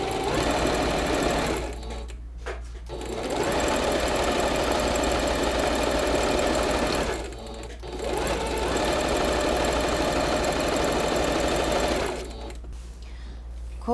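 A sewing machine stitches steadily around a mustache-shaped cushion, running loud and close in three long bursts with short pauses between them.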